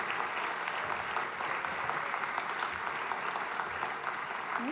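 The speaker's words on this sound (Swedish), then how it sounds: "En varm applåd för dem." Warm applause from a festival-final audience fills the space, a dense, steady wash of many hands clapping at an even level throughout with no voices standing out.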